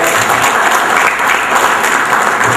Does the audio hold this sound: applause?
yes